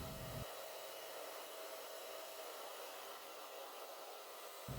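A blow dryer runs steadily while a cat's fur is dried, a continuous breathy whoosh with an even hum. It is faint and heard alone, with a brief low thump at the start and at the end.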